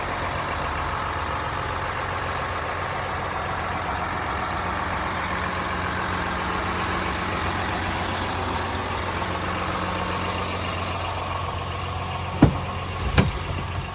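Steady idle of a 2007 Dodge Ram 2500 truck engine running continuously and fairly close, with a pair of brief sharp clicks near the end.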